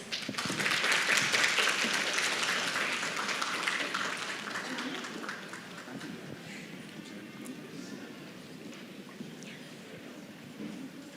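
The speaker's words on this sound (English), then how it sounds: "Please welcome them with a warm round of applause." Audience applause at the Dental Research Summit 2025 symposium opening, welcoming professors onto the stage beside the Vice Rector. A dense, loud wash of clapping swells at once, holds for several seconds, then thins and fades into a softer crowd murmur.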